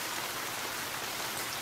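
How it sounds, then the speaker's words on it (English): Heavy rain in a Chilla's Arts bathhouse horror game pours as a dense, even hiss with no pauses or voices. "It's raining heavily."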